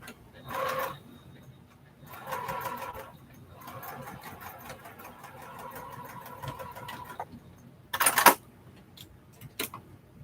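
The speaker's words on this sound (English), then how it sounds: "This is what we call chain stitching." Sewing machine chain stitching quilt pieces for a postage stamp quilt, running in several separate bursts with brief pauses between them, plus a couple of sharp clicks near the end, close and fairly quiet.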